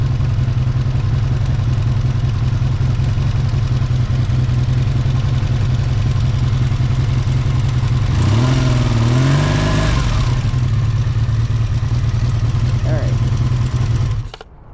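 A Honda VF750 motorcycle engine idles steadily with a low, even rumble during a carburetor sync, rising briefly in a short rev midway before settling back to idle and cutting off at the end.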